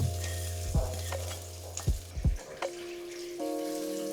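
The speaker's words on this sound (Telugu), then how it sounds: "ఈ కలిపిన పోపుని నేరుగా పప్పులో వేసుకొని బాగా నిరుపుకోండి" Hot tempering with asafoetida is poured into ridge gourd dal and stirred, giving a few short, sharp sizzling bursts and splashes over a quiet, steady tonal background.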